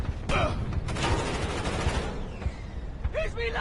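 Rapid gunfire bursts and automatic weapon fire in the Splinter Cell Chaos Theory video game, loud and dense, with a brief shouted voice near the end.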